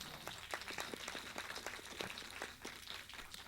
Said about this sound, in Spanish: Por favor, les pido un aplauso para ella